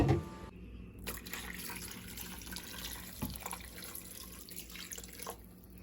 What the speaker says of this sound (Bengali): আমি এখানে 2 কাপ পরিমাণ পানি নেব।